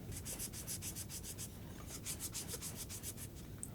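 A rag soaked in isopropyl alcohol is rubbed over a Zeiss part in quick, regular back-and-forth strokes, a soft, close scrubbing sound heard alone.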